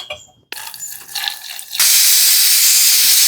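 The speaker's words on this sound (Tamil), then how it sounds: "இப்போ தண்ணி ரெடி பண்ணலாம். புளி ஊற வச்சுக்கலாம்." Water poured to soak tamarind for pani puri at home: after a brief quiet start and some clattering, a loud steady rushing stream of water fills the vessel continuously, close and alone.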